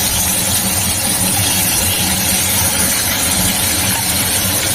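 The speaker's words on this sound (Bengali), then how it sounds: "চিমনিটা শব্দ হচ্ছে বুঝলে, চিমনিটা বন্ধ করলে না" A kitchen chimney exhaust hood runs as a constant, even mechanical hum and whoosh, loud and close, with no pauses and no speech.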